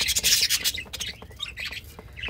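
Several pet birds squawk and chirp in short, overlapping bursts close by as they settle into hanging clay nest pots, with scratchy rustling between the calls.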